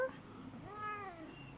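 A single drawn-out cat meow, fairly soft and slightly rising then falling, over a quiet background hiss.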